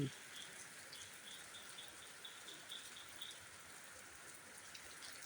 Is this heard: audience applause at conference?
no